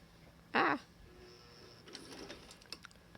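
A sewing machine back-stitching a medical mask: one short, loud burst of rapid needle stitching, followed by faint clicks and rustling of fabric and the machine.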